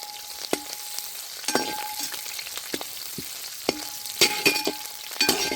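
A handful of curry leaves frying in hot oil for a drumstick flesh and seed thokku, giving a steady close sizzle broken by sharp crackles and spits, with no voices.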